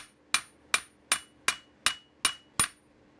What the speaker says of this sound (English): it'll be easier to bang this against cement than it is to